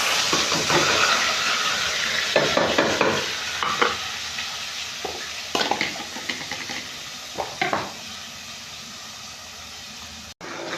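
Thick ground spice paste frying and sizzling in a pan, with repeated scraping strokes of a spoon stirring at an uneven pace, close and fairly loud.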